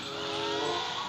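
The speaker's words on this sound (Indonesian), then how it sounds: "Wow, coba lihat knalpotnya menghadap ke atas, cuy. Wow, knalpotnya kenapa ribut pastinya" Brief high-pitched buzzing whine of a video-game racing motorcycle with an upward-pointing exhaust revving, a sustained harmonic engine tone holding steady for about a second.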